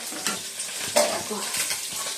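Fish sizzles and spits in a hot pan in a home kitchen, with a few soft scrapes of stirring over a steady, moderately close frying hiss.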